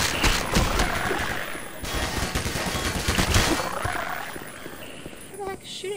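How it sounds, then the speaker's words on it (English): Automated turret in the game Black Mesa firing rapid bursts, loud, dense crackling gunfire that rattles on for several seconds before thinning out, close and harsh. "Shooting at us. Oh my god, it's a turret!"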